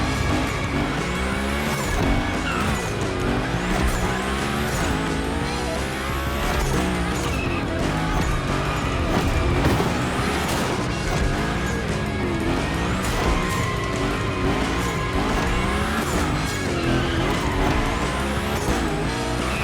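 Hoonigan gymkhana car in The Crew Motorfest racing game, loud continuous engine revving with repeated sharp tire squeals and skids as it drifts, sustained and close throughout.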